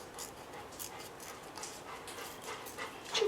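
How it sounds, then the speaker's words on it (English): A dog pants and whimpers nearby, quick soft breaths repeating in a fast rhythm at low volume, with a brief louder rustle at the end. "Sorry guys, my dog"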